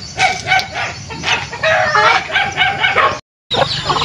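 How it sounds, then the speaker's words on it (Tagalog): Native Bisaya chickens kept on a Filipino farm near fish ponds crow loudly and close, overlapping calls filling the clip before a brief dropout and another burst. "Ito na guys yung ating mga alagang Bisayang manok or native chicken dito sa ating Cobo area."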